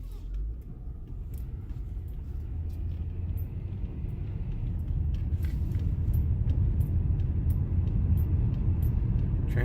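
A 1997 Nissan Maxima with rusty brakes drives along, its steady engine and road rumble building gradually, with scattered faint scraping clicks from the brakes above the continuous low drone.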